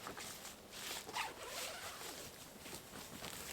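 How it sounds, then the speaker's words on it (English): A zipper is pulled open along the fabric wall of a TideWe 3-in-1 see-through hunting blind, a faint continuous rasping close by with no talking. "But you take the zipper all the way off"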